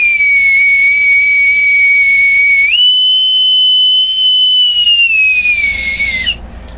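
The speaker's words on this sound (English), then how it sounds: "pipe aboard with my authentic bosun's whistle" A bosun's whistle is piped in one long, loud, shrill note that holds steady, then jumps to a slightly higher pitch and sustains before trailing off. No one speaks over it.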